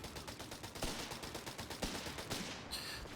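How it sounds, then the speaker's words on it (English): Automatic gunfire in the video game Company of Heroes 3 comes as rapid, rhythmic bursts of shots with a few louder reports mixed in, heard moderately loud and steady and then tapering off. "Just free firing because they're in the firing arc there."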